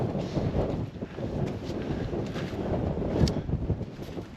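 Wind buffets the microphone on an open hilltop hike at the Roaches, a continuous low rumbling gust that swells and eases without pause, with no voices.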